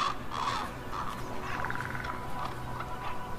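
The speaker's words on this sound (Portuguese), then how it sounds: "os corvos também habitam as regiões a norte do Círculo Polar" Ravens cawing in the Arctic north of the Polar Circle, a few harsh croaking calls spread over a few seconds against a low wind-like background.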